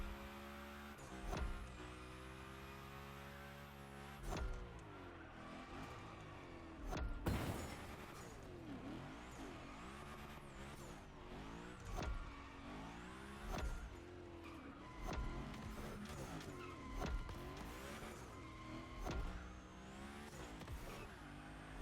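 In The Crew Motorfest, the Hoonigan car skids through a gymkhana run with a steady engine drone and repeated tire squeals, and brief louder bursts recur every few seconds with no talking.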